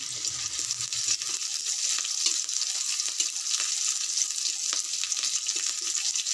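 Chopped garlic and green chillies frying in hot oil, a steady close sizzle with faint stirring clicks throughout, no voices.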